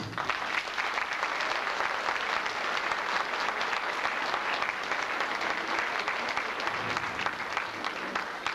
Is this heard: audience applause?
yes